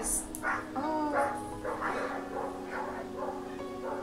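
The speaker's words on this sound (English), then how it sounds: "You can hear all the dogs barking." Several dogs barking and yipping in a chorus nearby, with repeated overlapping barks and a few whimpers throughout.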